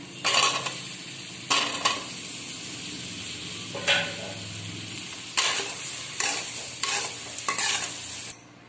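Boiled, peeled potato pieces being stirred in a frying pan: repeated scraping strokes of a spoon against the pan in uneven bursts over a continuous soft sizzle, close and fairly loud, with no talking.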